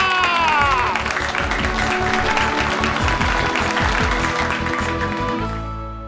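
Steady applause from a crowd for a group dance performance on stage, with music playing over it, continuous and loud, then tapering off toward the end.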